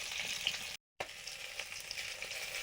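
Rui fish frying in hot oil in a home kitchen, a steady close sizzle with a brief cut in the middle and no talk.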